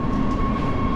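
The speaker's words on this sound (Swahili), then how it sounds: "Kwa hiyo mkicheki vizuri kuna train hapa ndio inafika." A train pulls into a Union Station platform with a steady, loud, close rumble and a faint high whine running through it.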